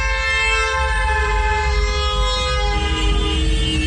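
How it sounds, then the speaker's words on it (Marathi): A train horn blares continuously and loudly for the whole stretch, a steady multi-tone blast with a low rumble underneath. "बघितलं असं हॉर्न वाजवून जाते"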